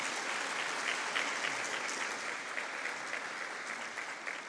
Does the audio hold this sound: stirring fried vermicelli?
no